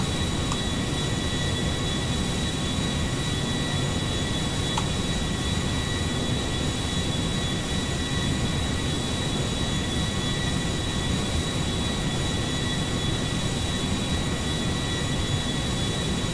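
A steady, dense engine roar fills a video game Airbus airliner tuned to 400 horsepower, holding an even loud drone with a thin high whine for the whole stretch, no speech over it.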